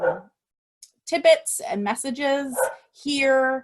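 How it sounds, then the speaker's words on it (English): A dog barks and yips in the background, short close bursts heard under a woman's ongoing speech during an online presentation. "I apologize for my barking dog"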